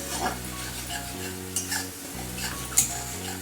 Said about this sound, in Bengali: মশলাটা আমি একটু কষিয়ে নিচ্ছি